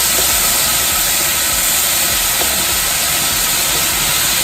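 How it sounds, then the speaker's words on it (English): Onions and potato hitting a hot pan, producing a loud dense hiss like rushing steam that holds steady throughout, close up with no speech. "So there goes the onions."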